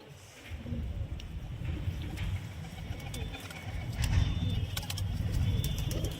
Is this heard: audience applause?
no